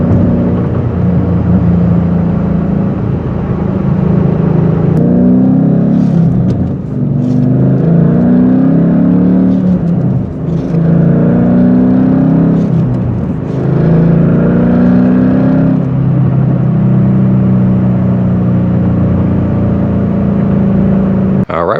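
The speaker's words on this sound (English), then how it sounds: "car shifts nice and smooth, sounds amazing" A 2013 Ford Mustang Boss 302 engine runs loud and close throughout, rising and falling as it revs and shifts through gears, with brief dips between pulls.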